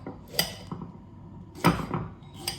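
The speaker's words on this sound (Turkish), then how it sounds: "Hemen şeftalilerimi doğrayıp" A few sharp knife chops on a cutting board as peaches are diced, spaced irregularly with soft clinks between them, close and moderately loud, with no voices.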